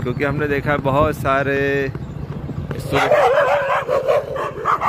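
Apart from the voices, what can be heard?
dogs barking on the road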